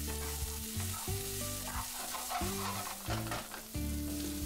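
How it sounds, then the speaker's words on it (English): Green peas for samosa filling sizzle steadily in a hot pan over a medium-high flame, with light stirring and background music running throughout. "Then add 80 grams of green peas. Fry this for another 2 minutes."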